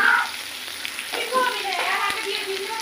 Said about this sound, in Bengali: আমরা কপির যে ডাটা ছিল সেগুলো এবং আলু দিলাম